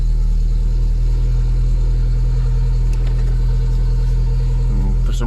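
A VW Golf Mk2 with a Weber carburettor and a weak battery idles steadily just after starting, a close, even low rumble with no revving.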